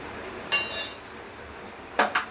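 A metal lid clanks down onto a pan of cooking masala, a bright ringing clink followed by a short rattle, then two lighter taps a moment later, close and with no talking.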